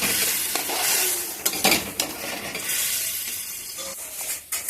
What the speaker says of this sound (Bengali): মশলাটাকে ভালোভাবে কষিয়ে তারপর একটু জল দিয়ে মাখামাখা অবস্থায় নামিয়ে নেব